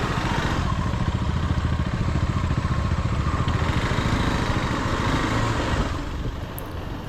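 A motorcycle rides a slippery, muddy off-road trail to Vannamma lake, its engine a loud, steady close drone with rattling clatter that eases slightly near the end.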